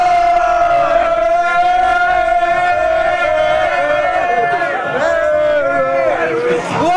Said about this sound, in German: Jubel!